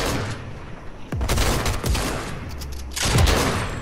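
Gunfire in the video game Fortnite, with a rapid volley of close, loud shots followed by a few more separate bursts over continuous game ambience.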